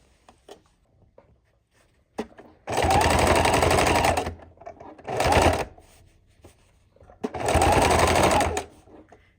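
A sewing machine stitching the seam of a quilted book bag, three loud, close bursts of rapid needle chatter separated by quiet pauses with small handling clicks.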